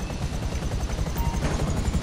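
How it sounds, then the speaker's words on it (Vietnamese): An Akula four-rotor military helicopter in GTA 5 Online drones close and loud, a steady roar with a fast, churning rotor pulse that runs through the whole stretch. "Đây là con Akula. Trực thăng bốn cánh,"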